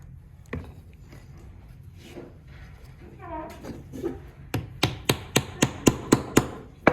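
Hammer tapping a glued dowel into a wooden bird door knocker: a quick run of about eight sharp, evenly spaced taps, close and distinct, after some quieter handling noise and brief talk.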